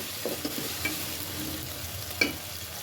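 Garlic and ginger paste being stirred with whole spices such as cinnamon in hot oil: a steady sizzle with a few scraping strokes of the spoon, close and alone.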